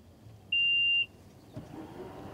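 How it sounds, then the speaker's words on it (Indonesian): A Mitsubishi car locked by smartphone gives one clear, high beep lasting about half a second, followed by faint rustling and background noise. "Dan saya juga bisa tutup lagi dengan handphone."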